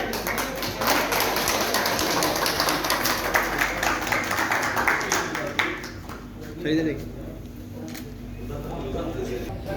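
Applause from an audience at a formal gathering welcoming Zahid Beg Sahab as he is garlanded, a steady crowd of clapping that runs for several seconds before thinning out, with some voices over it.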